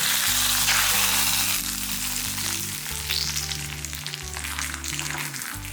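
Hot tempering poured into buttermilk curry (mor kuzhambu) sizzles and crackles loudly at first, then settles into a steadier frying fizz with some stirring, no talking.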